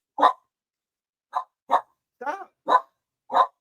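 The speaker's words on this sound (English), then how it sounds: "no wonder the dog upset" A dog barks six times in separate sharp bursts, fairly close and clear, with short irregular gaps between barks and no talk over them.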